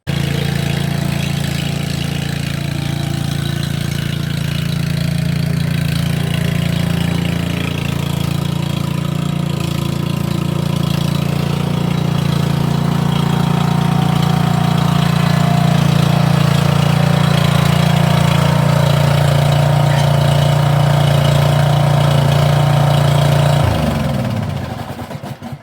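Snapper zero-turn mower engine running steadily at idle, a loud continuous low drone held for about 24 seconds before cutting off abruptly near the end.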